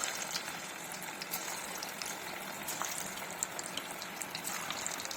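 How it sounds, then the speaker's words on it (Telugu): Chicken pieces deep frying in hot oil give a steady, soft crackle with scattered pops and bubbling, quiet and continuous with no voices. "వన్ బై వన్ ఒక్కొక్క పీస్ని ఇలాగా ఆయిల్లో వేసి బాగా డీప్ ఫ్రై చేసుకోవాలి"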